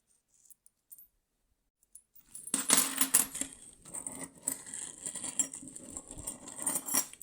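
Old Turkish coins, including kuruş pieces, pour and clink out of a plastic bag in a dense metallic jingle of many small clatters after a quiet start, close up.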